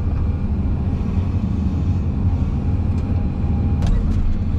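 A tractor engine driven in eighth gear rumbles in a steady, loud, low drone with little variation across the whole stretch.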